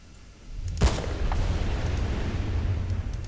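A single sharp gunshot in the video game Battlefield: Bad Company 2 cracks out loudly near the start, followed by a low, rumbling ambient drone that carries on steadily with no talking.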